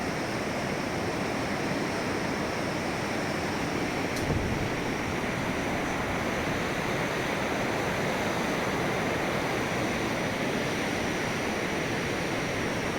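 A river flows beside an army-built iron bridge near Khardung La, a steady, dense roar of rushing water, loud and continuous throughout with no pauses or voices.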